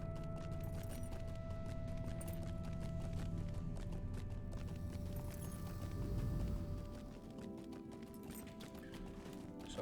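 A goat mount in the Lord of the Rings Online video game runs, its hooves clopping in a quick steady rhythm under game ambience, easing slightly near the end.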